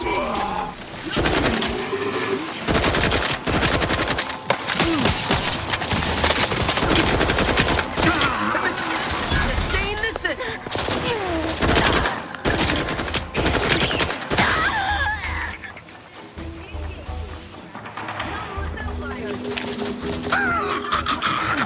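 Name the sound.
gunfire shooting turrets in video game Outer Worlds 2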